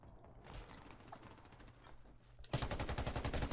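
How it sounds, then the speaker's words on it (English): Automatic gunfire in the video game Warface, a steady fusillade of rapid shots building up and then bursting loud and close in a dense rhythmic stream. "I'm shooting at one guy and then the other guy just comes in"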